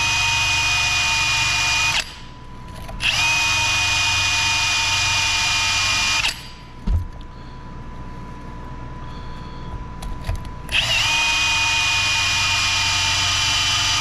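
A cordless power tool drilling holes in engine shims for a 1920 Nash 687 engine rebuild, a loud steady high whine in long runs broken by brief pauses and a few clunks.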